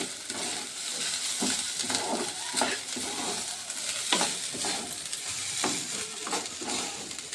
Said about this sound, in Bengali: দিয়ে একটু নেড়ে নেবো।